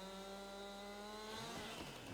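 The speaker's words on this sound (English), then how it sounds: "if we can use our chainsaw to chop those big ones off" Chainsaw cutting a tree in the farming video game Farming Simulator 22, a steady mechanical drone with a pitch sweep toward the end, heard alone without talk.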